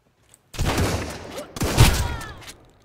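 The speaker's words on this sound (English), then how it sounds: "I have a shotgun ready for you." Two loud close shotgun blasts from Sunkenland, about a second apart, each a sharp boom with a ringing tail and a short echoing decay.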